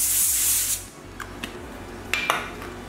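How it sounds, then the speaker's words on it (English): Cooking spray hisses in a steady close-up burst onto a foil-lined baking sheet for under a second, followed by a few light crinkles and taps of the foil. "Give it a little spray of cooking spray."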